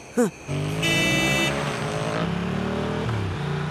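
A motorbike speeds urgently through traffic, its engine whining steadily at high revs after a brief sharp toot at the start, with other vehicles moving nearby.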